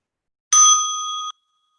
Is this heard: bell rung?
yes